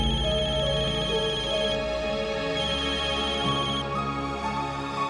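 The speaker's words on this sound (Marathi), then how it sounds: "सुदर्शन, फोन वाजतोय तुमचा" A phone ringtone plays steadily for about five seconds as a sustained, repeating melodic tone, fairly loud and close, with no one talking over it.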